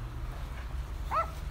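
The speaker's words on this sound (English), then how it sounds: "Dog barking." A little Chihuahua gives a single short, high yip at a distance, faint over a low steady background rumble.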